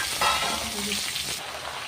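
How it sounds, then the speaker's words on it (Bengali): Cut vegetables hit a hot pan of ghee with ginger, mustard seeds and fenugreek, setting off a loud, bright sizzle and frying crackle that flares up, then settles into a steady hiss. "এবার আমি সবজিগুলোকে দিয়ে দিচ্ছি"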